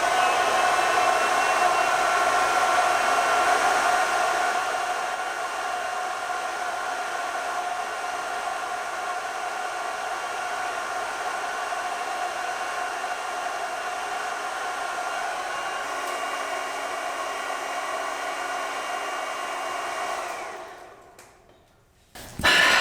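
A coil heating tool runs on a car part from an Evo 9 restoration, giving a steady loud blowing whir with a whining tone that holds for about twenty seconds, then drops away abruptly and stops.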